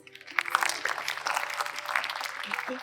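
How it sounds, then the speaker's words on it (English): An audience at a Kathak dance recital applauds after the performance, a short burst of fairly steady clapping with some voices mixed faintly underneath. "This performance definitely needs a loud round of applause."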